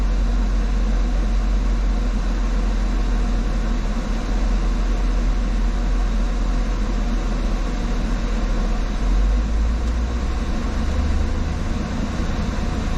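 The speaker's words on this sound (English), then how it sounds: "Alright, just engage the compressor." An Isuzu NPR truck idles with its A/C compressor engaged and the blower fan at top speed during an expansion valve test, making a continuous, even mechanical drone and hum close by, with no talking.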